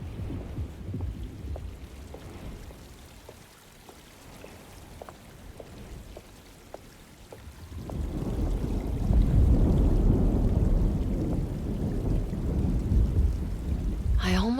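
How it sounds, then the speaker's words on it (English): Thunderstorm in the video game Alone in the Dark: soft rain with regular faint dripping ticks, then rolling thunder swells into a loud, sustained rumble and heavier rain, with no one talking. "Looks like a storm's coming."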